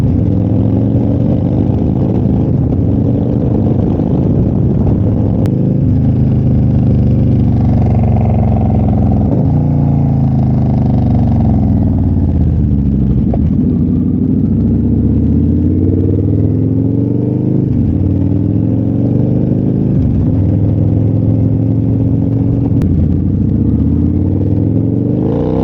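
V-twin engine of a 2005 Victory Hammer motorcycle running close and loud for nearly half a minute, with a rough idle and several revs that rise and fall, plus a little mechanical clatter.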